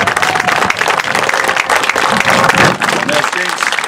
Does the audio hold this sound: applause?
yes